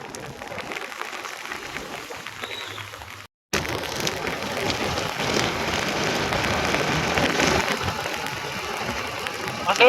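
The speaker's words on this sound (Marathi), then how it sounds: "बघा पावसाचा जोरदार पाऊस धरलाय" Steady, heavy rainfall pours down in a dense, continuous hiss over a fog-covered mountain ghat road, briefly cutting out for a moment before resuming just as hard.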